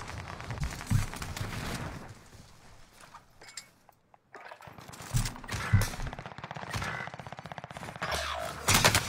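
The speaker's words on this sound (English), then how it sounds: "somebody from tents is shooting me" Gunfire in the video game Call of Duty Warzone rattles in rapid automatic bursts and scattered single shots, some near and loud, with a short lull partway through.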